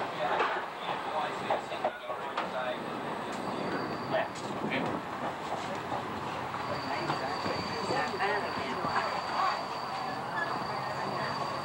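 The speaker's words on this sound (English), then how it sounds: "As the train pulls into Pembroke" CPR 1201 train on the Autumn Valley Express pulling into Pembroke station: a steady, continuous rumble and rattle of rail cars with faint high tonal whines, sustained at an even level throughout without clear individual hits.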